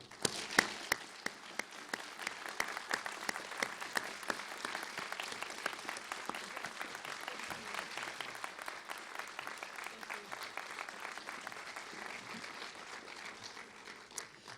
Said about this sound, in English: we're going to ask that you hold all your applause during the debate, except for now, as we welcome our candidates onto stage